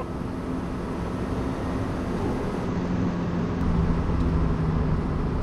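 A Rover 200 BRM hot hatch engine revving hard toward high RPM, a steady droning roar that builds slightly louder while driving, heard from inside the car with no talk.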